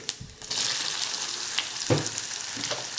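Potatoes and cumin seeds fry in hot peanut oil in a pan, giving a steady close sizzle. A few stirring clatters and scrapes sound on top of it.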